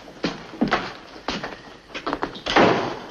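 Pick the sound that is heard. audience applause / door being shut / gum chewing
door being shut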